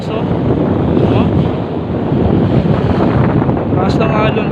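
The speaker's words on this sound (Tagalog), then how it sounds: "Sobrang lakas ng alon." Strong ocean waves surge onto a summer beach at San Juan, Batangas, a loud, continuous rushing roar heavily buffeted by wind on the microphone, with voices faintly underneath.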